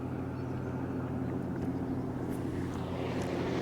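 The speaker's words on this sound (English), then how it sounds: "oh, motorboat." Motorboat passing on the water during a vacation in Sweden, a continuous low engine drone heard from a distance that holds steady throughout with no voices.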